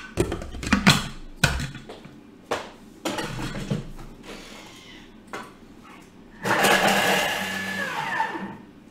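A blender blitzes onion, garlic and ginger for satay sauce, starting with clunks and taps as the jar is set up and short pulses, then a loud sustained whir near the end.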